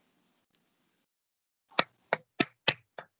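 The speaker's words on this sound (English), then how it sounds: "Everyone just clap for Bhavya." A school class in a Diwali assembly clapping for a student: a single tick, then a short run of about six distinct, fairly close claps at an even pace.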